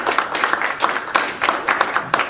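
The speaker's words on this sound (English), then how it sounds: "give them a last round of applause" Short burst of audience applause closing a forum on paramilitary training camps, a small group clapping loudly and close with distinct, uneven individual claps.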